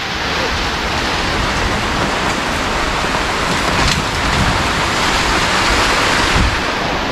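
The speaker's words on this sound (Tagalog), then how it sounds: "Lakas ng ulan na yan, no?" Heavy rain pours steadily on and around a nipa hut, a loud, unbroken hiss of water with no gaps, close and enveloping, with faint voices barely present.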